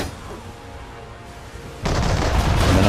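Ship's cannons firing in Assassin's Creed III Remastered: a low rumbling roar that builds, then breaks into a loud, dense boom of broadside fire near the end, with no talk over it.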